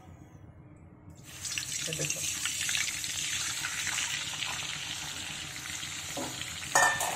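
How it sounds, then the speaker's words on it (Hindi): Amla water poured into warming homemade adivasi hair oil sets off a loud, steady sizzle and bubbling that starts abruptly after a second of near-quiet and continues throughout, with a brief voice heard near the start. "ये आंवला का पानी इसमें चला गया।"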